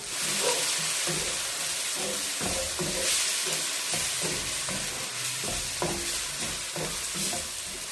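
Liver and onions sizzle in a pan while being stirred, a continuous frying hiss broken by repeated scraping and clattering strokes of a utensil at a steady rhythm, close and moderately loud without speech.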